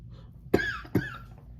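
Two sharp coughs close to the microphone, about half a second apart, with quiet room tone between and after them.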